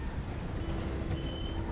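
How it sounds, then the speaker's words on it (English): Train passing by in the video game Red Dead Redemption 2, a steady dense rumble of rolling railcars heard close and continuous throughout, with faint metallic tones above. "I'm going to let this train go by,"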